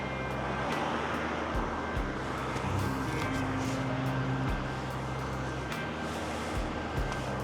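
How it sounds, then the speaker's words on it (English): Vehicles pass by on a road on a quiet Sunday morning, a steady outdoor rush with low tire and engine swells as they go past. "Here comes the vehicle."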